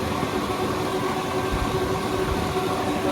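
A truck engine idling steadily, a continuous low rumble with a constant hum, close and unbroken throughout with no talk.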